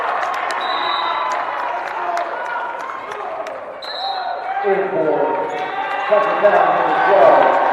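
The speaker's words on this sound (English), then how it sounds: "Listen to the crowd, they love it." Crowd noise at a girls' high school basketball game, Fairmont Senior against Tucker County, with a commentator talking over it. The cheering swells toward the end, with a ball bouncing and sneaker squeaks on the court.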